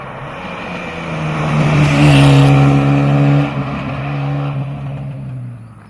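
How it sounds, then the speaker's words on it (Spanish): A Porsche rally car on a stage of the 2015 Rally Costa Blanca approaches with a rising engine drone, roars loudly close by, then recedes as the engine note fades. No one speaks. "Es un Porsche."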